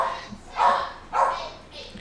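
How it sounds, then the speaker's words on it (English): A dog barks in the background, with two or three muffled, mid-distance barks spaced roughly half a second apart and a softer yip trailing at the end. "Don't mind the dog barking in the background."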